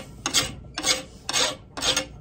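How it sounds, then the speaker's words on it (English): A rasp files a clamped carbon steel knife blade in four even, gritty strokes at a steady rhythm, close and fairly loud, with brief pauses between strokes and no voices. "I done been right here filing on this a little while"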